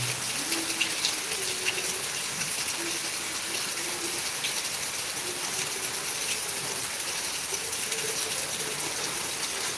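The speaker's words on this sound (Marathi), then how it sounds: "असा जोराचा पाऊस सुरू झाला आहे सध्या खूप जोराचा" Heavy rain pours down in the Barshi Road area of Beed, a dense, steady hiss and patter that stays constant and fairly close throughout, with a faint voice murmuring beneath it.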